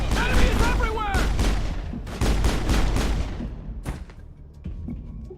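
Gunfire in the Mass Effect video game: loud rapid bursts and booming shots in quick succession, with in-game voices talking over the fighting.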